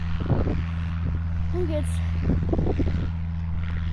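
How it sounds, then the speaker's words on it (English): A propeller plane launching on the Outer Banks drones as a steady low engine hum under nearby talking. "There's a plane launching."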